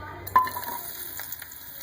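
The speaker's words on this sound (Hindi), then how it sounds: "सबसे पहले ऑयल में हम एक प्याज ऐड करेंगे" A chopped onion drops into hot oil for an egg vegetable paratha, giving a sudden sizzling burst that settles into a soft, steady frying hiss with a few faint stirring sounds.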